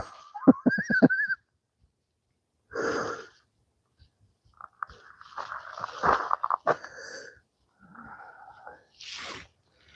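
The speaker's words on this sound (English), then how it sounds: "I can only hear my own breathing there, Dave. I'm huffing and puffing." Heavy huffing and puffing breaths from a hiker on a rail trail from Cotton Valley Station to Clay Pit Brook, coming in close, uneven bursts with short pauses between them.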